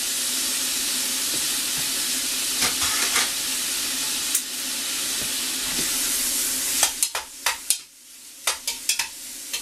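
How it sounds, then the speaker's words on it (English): Chili con carne with spices being stirred in a pot: a steady simmering sizzle with scraping stir strokes, sharper clicks and clatters of the spoon toward the end, no voices. "we'll go ahead and stir this around"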